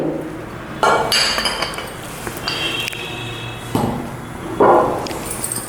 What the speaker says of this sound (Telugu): స్టవ్ మీద బాండి పెట్టుకొని మనము కొంచెం తాలింపు కోసము ఆయిల్ వేసుకోవాలి